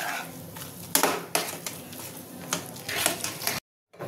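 Lentil paste mixture being stirred and pressed in a pan, a close series of irregular scraping and knocking strokes from a utensil against the metal, ending in a sudden cut to silence.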